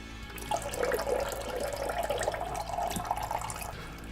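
Fluid drains from a Vulcan 750 motorcycle into a bucket, a thin trickling, splashing pour that starts abruptly and runs steadily at a modest level, close by and without speech.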